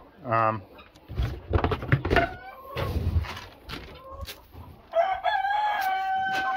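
Chickens, including Rhode Island Red hens, cluck in a farm pen while a rooster crows loudly nearby, once early and again at the end; someone talks between the bird calls.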